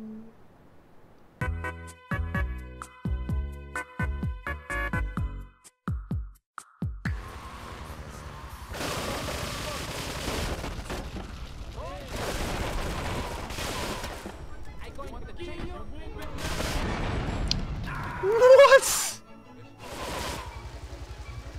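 Enemy gunfire in the video game GTA III: a burst of rapid shots early on, then sustained noisy action with more shots and a sharp loud blast near the end, over game sound.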